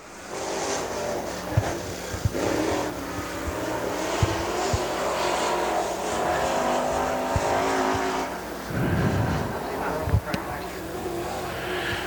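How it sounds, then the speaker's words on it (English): A crate late model race car engine drones and revs continuously during dirt track qualifying at Dixie Speedway, with changing pitch as it circles the track, while someone talks over it. "Zach Shelton out of Dallas, Georgia, the number 27 car."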